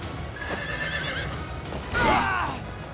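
A horse in the video game Fire Emblem: Three Houses neighs twice, a brief whinny followed by a louder, shriller one, over steady game background noise.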